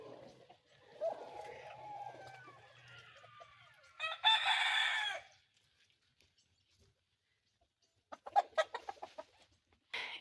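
Farm chickens outdoors: soft clucking at first, then a loud, close rooster crow, a quiet pause, and a hen's quick burst of sharp clucks.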